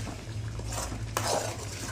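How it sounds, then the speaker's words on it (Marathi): Masala and paneer spatter and sizzle while being sautéed in a pan, with a steady low hum, stirring scrapes and a sharp metallic clink partway through. "बघ ते कसं उडत आहे अंगावर, चट चट चट चट चट चट होत आहे."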